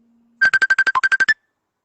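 A phone rings loudly and up close with a rapid burst of about eleven evenly spaced electronic beeps, alone after a faint low tone.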